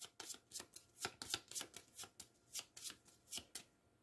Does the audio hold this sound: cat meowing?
no